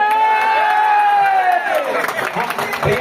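Crowd at an open meetup for a Chhattisgarhi film in a Raipur hotel breaks into loud cheering, whoops and applause, a dense sustained roar with shouting voices throughout.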